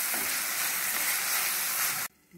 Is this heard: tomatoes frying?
yes